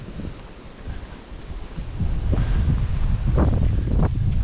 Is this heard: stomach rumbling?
no